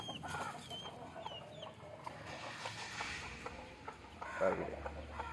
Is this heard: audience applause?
no